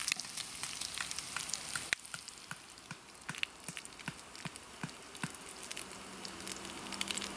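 Bacon frying in a pan at an outdoor camp, giving a steady crackling sizzle with scattered pops and spits that runs throughout, close by with no talking.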